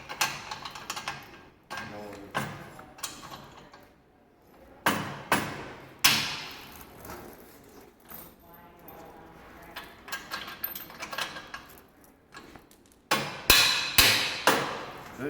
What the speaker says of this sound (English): Tap your bearing that way.